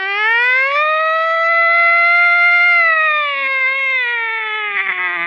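A loud wailing siren sounds alone and close, a steady harmonic tone that swells and slowly sags in pitch in a dramatic film scene just after a plane passes overhead.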